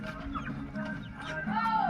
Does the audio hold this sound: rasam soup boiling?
no